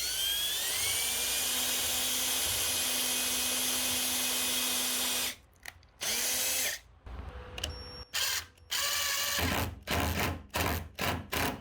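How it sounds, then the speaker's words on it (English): Power drill pre-drilling pilot holes with a number 10 countersink bit in wood for a custom backyard privacy door, a steady loud whine for about five seconds followed by short repeated bursts of drilling. "Next step, I'm going to pre-drill using a number 10 countersink."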